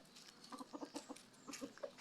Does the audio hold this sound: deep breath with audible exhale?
no